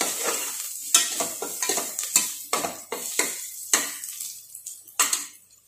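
Sliced ginger and garlic sizzle as they fry in a pan for goat leg soup, with a steady hiss broken by repeated metallic scrapes and clinks of a spoon stirring, close up, with no talking.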